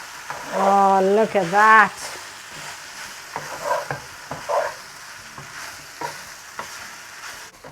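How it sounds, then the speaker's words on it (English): Chicken and broccoli rice is stirred in a pan on high heat, giving a soft sizzle with repeated scraping and clattering strokes after a short spoken exclamation at the start. "just stir this on high heat"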